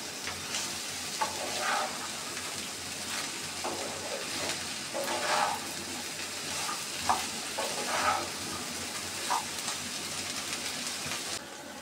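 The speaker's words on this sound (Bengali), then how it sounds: "আরও কিছুক্ষণ আমি ভেজে নিব, তাহলে আমার ঢেঁড়স ভাজিটা তৈরি হয়ে যাবে।" Salted okra fries in a pan with a continuous close sizzle, punctuated by repeated spatula stirs and scrapes throughout, without speech.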